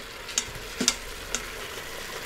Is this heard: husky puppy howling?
no